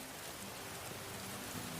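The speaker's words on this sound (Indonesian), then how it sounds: "Non dan Bota berlari bersama di tengah hujan." Steady rain pours down in a dense, even hiss that stays loud and unbroken throughout, with no voices present.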